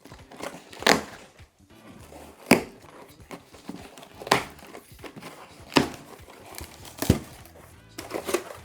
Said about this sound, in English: grab the corners of the box and pry them up